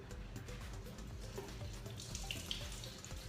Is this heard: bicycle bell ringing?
no